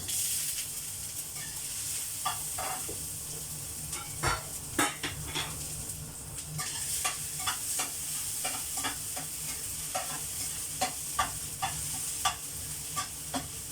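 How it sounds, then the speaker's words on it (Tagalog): Minced meat being sautéed in a pan, a constant soft sizzle broken by repeated clinks and scrapes of a utensil against the pan, close and fairly quiet, with no talk. "Naglagay ako ng mincemeat, guys. Minarinig ko na ito. So, ngayon, igisa ko na siya."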